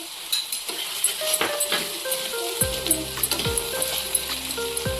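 Chopped onion, garlic and ginger sizzle in hot oil for an egg cashew curry, with a steady frying hiss, occasional stirring clinks and scrapes, and a few tonal music notes over it.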